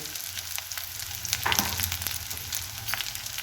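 A ginger, garlic and cumin paste fries with pabda fish in oil, giving a close, steady sizzle with soft stirring scrapes and a brief louder spatter midway, with no voices.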